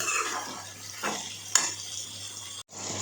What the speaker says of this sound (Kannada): ಈಗ ನಾನು ಕಟ್ ಮಾಡ್ಕೊಂಡಿರೋ ಟೊಮೊಟೊ ಹಾಕ್ತಾಯಿದ್ದೀನಿ ಒಂದು ಐದು ಟೊಮೊಟೊ ಹಾಕಿದ್ದೀನಿ ಹಾಕ್ತಾಯಿದ್ದೀನಿ ಫ್ರೈ ಆಗಬೇಕು